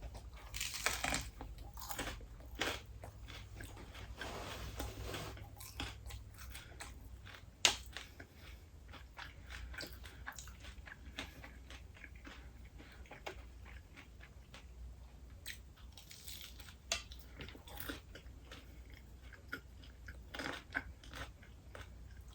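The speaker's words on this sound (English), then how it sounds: "the crunchy tortillas, strips, they add a nice crunch to it" Crunching and chewing of crispy tortilla strips on fish tacos, quiet close-up bites and mastication with scattered crisp cracks in a steady, soft rhythm and no talking.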